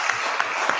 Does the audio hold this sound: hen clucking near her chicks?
no